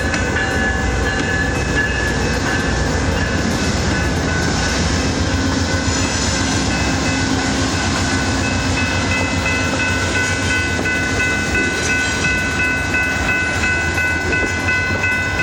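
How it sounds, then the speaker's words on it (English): An Amtrak Coast Starlight passenger train led by P42DC diesel locomotives rumbles steadily past with deep engine drone, continuous and loud throughout, no voices. "Amtrak P42 DCs are leading the Coast Starlight"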